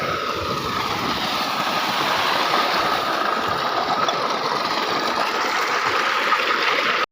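Cool flowing stream water around soaked feet, a steady rushing wash that stays loud and even throughout with no talking.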